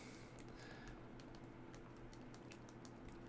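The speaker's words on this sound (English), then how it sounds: "So now we type that code we just got in here" Someone types a code on a computer keyboard to set up a free VPN on a Fire Stick, a steady run of light, quick key clicks close by over quiet background hiss.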